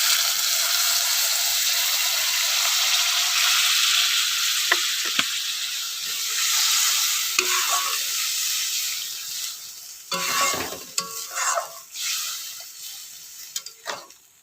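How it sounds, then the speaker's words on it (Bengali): Water poured into spice paste fried in oil for a small-fish lote curry, a steady close sizzle that breaks into louder, uneven hissing bursts and spatters near the end as stirring continues, with no voices. "আমি এবার জল দিয়ে দেবো"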